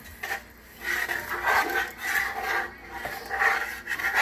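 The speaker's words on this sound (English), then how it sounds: "we're going to keep scraping, getting all that good stuff off the bottom and the sides" A utensil scrapes repeatedly across the bottom of a pot of roasting teal after water is added, rhythmic rasping strokes close by, with no talking.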